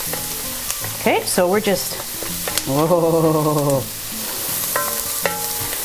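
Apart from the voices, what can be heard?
onion sauteing in pan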